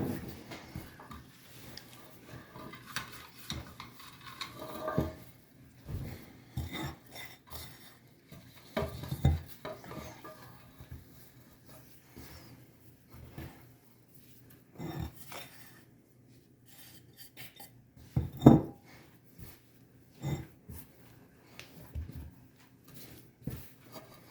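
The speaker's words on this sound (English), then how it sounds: "I'm just gonna knead this for about 5 minutes" Whole wheat bread dough being kneaded on a kitchen counter, soft irregular pushing and thumping sounds repeating over a long stretch, fairly quiet with occasional louder knocks and no talking.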